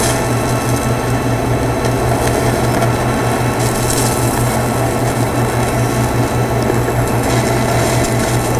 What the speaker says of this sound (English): 1/16 of an inch tungsten, 55 amps on the AHP Alpha TIG over there, and let's start out with the 1/8 inch.